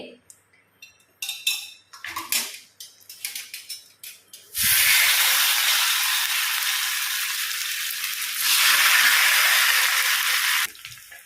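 After a few clinks of utensils against a pan, fish pieces with curry leaves hit hot oil and burst into a loud, continuous sizzle that holds for several seconds and swells briefly before stopping.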